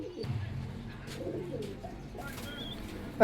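Pakistani Royal Teddy pigeons coo in low, soft, throaty murmurs at moderate distance, with faint rustling and a brief sharper chirp near the end.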